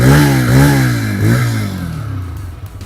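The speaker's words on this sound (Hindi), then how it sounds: "इसका जो एग्जॉस्ट नोट है वो आपको काफ़ी उसमें बेस देखने को मिलेगा" A TVS Raider 125 cc motorcycle's exhaust gives a deep, bassy note as the engine is revved loudly twice in quick succession, then settles to a quieter, burbling idle.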